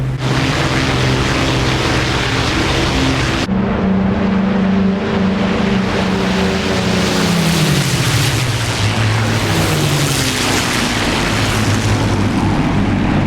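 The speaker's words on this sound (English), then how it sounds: "According to ED, these are the Merlin 25 engines." Rolls-Royce Merlin 25 aircraft engines drone loudly and steadily in the DCS flight game, with the pitch dropping gradually partway through and no voices over it.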